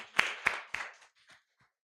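An audience applauding after a talk at a youth activism event, a brief round of clapping that swells for a moment and then quickly fades into quiet scattered claps.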